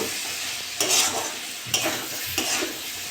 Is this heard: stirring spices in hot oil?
yes